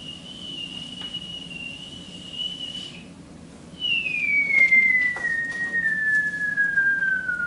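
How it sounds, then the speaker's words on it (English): A performer playing Grandma in a stage play of George's Marvellous Medicine whistles two long, clear sustained notes, the second louder and sliding slowly downward, alone over faint room noise. "she was beginning to whistle"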